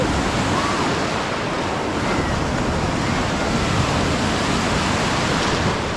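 Ocean waves break on a sandy beach at Ocean City in summer, a continuous loud wash of surf mixed with wind buffeting the microphone, with no distinct pauses between breakers.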